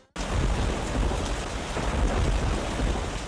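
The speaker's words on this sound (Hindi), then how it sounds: "आसमान से बूंदें बरस पड़ी" Heavy rain pours during a winter storm over Pakistani cities: a dense, steady roar of downpour that starts abruptly and stays loud and even throughout, with deep rumbling underneath.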